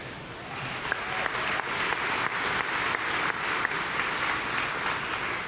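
District Teachers of the Year applaud themselves at an educators' celebration, with steady, even clapping from a room full of people filling the whole stretch at moderate distance.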